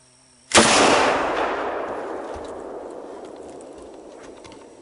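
A single loud rifle shot cracks out during a hog hunt in a swamp, followed by a long rolling echo that slowly fades over several seconds in open outdoor surroundings.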